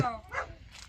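A dog gives a short yappy bark, then a brief whine, close by with some background noise.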